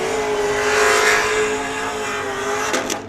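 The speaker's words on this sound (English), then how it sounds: "Jeff Stein in that X-Comp Tire Cadillac CTSV gets the win" An X-Comp Tire Cadillac CTS-V drift car at an LS Fest West drift event roars loudly and close, its engine holding a high, strained rev before the pitch drops sharply near the end.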